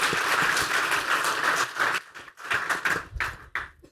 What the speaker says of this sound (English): An applause to Silvia.